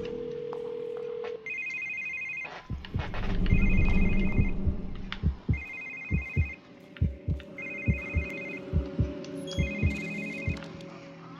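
A phone rings repeatedly in the survival horror game The Evil Within, five evenly spaced trilling bursts over a low hum and a throbbing, heartbeat-like pulse.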